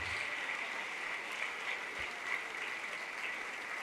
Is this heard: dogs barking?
no